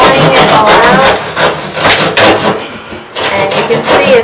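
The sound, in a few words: sawing out tiles and backer board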